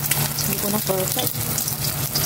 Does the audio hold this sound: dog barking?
no